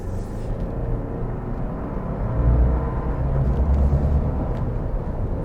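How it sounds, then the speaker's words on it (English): A 2024 Toyota Land Cruiser's 4-cylinder engine in sport mode, a loud, steady low rumble heard from inside the cabin that swells briefly as the engine pulls, with no talking. "Sounds like a 4-cylinder."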